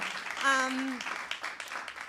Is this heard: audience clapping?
yes